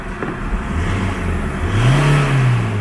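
A tuned Isuzu D-Max 3.0 automatic (2018) revs on a dyno after an ECU flash, its engine note climbing in a steady rising sweep and holding high before easing slightly, loud and close with no talk.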